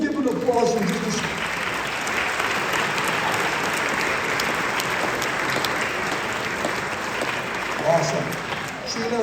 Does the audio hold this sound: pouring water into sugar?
no